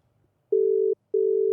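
Two steady electronic ringback tones on a phone call carried through a podcast mixer, each lasting about half a second with a short gap between them, loud and clean with no voices over them.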